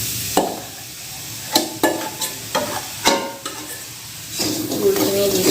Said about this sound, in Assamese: গুড়খিনি দি মই এনেকৈ লৰাই আছোঁ